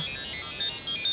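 A mobile phone ringtone chirps in short, bright repeating electronic tones, clear and close, with no voices over it.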